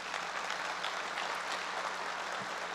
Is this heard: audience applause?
yes